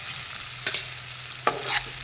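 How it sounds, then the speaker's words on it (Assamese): Pre-fried eggplant pieces are tipped into a pan of softened onions and stirred, giving a quiet, steady sizzle broken by two brief scraping strokes of the spoon against the pan. "এতিয়া ফ্ৰাই কৰি লোৱা বেঙেনাখিনি দি লওঁ"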